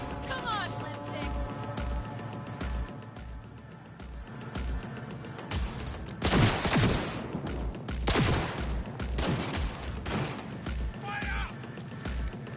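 Covering gunfire in a mature-rated video game, sharp repeated shots in bursts and volleys over a steady rhythmic thump, with shouted voices mixed in.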